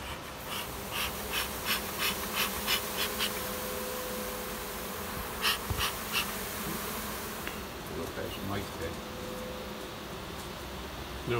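Honey bees buzz continuously around a hive in the open air, with a steady drone and louder passes as individual bees fly close.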